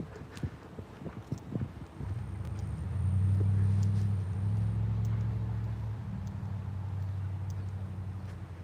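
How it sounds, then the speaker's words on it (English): A car drives past close by and turns, its low engine rumble swelling and holding steady for several seconds before easing off, with a few faint clicks and thumps early on. "The car is turning right now."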